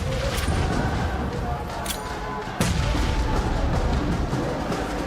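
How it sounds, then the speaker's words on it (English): Grenade explosions go off during a PUBG Mobile esports tournament match, with dull booms inside a dense, continuous wash of gunfire and game noise while commentators talk over it. "So let's look for these nades."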